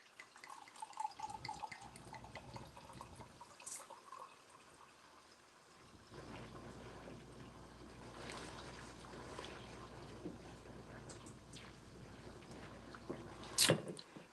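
Liquid poured out during a home seafood boil, a steady trickling and dripping flow running for several seconds, fairly faint, with a brief louder splash near the end and no talk.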